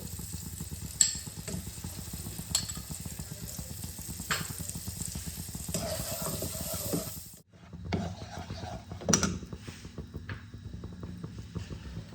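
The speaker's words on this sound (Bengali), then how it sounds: "বাটারে আমি কাজু বাদাম, কিশমিশ আর আমন্ডটাকে অল্প ভেজে নেব।" Cashews, raisins and almonds fry in butter in a pan with a steady soft sizzle, broken by scraping stirs and a few sharp clinks of the spoon against the pan; no one speaks.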